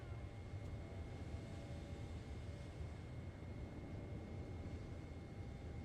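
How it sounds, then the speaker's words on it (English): Boeing 777 jet engines in a flight simulator with an add-on sound pack, a steady low droning rumble with a faint constant whine, heard from inside the aircraft at an even level throughout. "I don't really notice the interior stuff for the Boris 777 sounds as much as I do inside. The engines sound way better."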